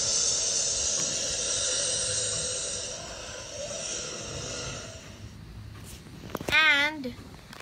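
American alligator sound played in an animals app: a long, steady breathy hiss that fades, followed near the end by a brief, louder rumbling bellow-like call.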